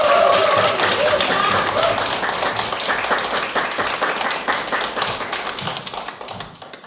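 Audience applause greeting the company president at a head-office lecture, a dense steady clatter of many hands that starts strong and slowly thins out over several seconds, with faint voices mixed in.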